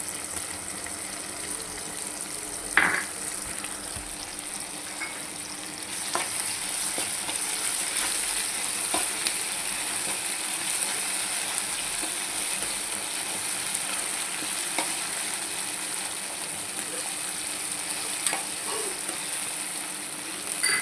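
Tomatoes with ginger-garlic paste fry in a pan with a steady sizzle, joined by occasional scraping stirs and clinks. The sound runs continuously and fairly evenly throughout, with no one talking.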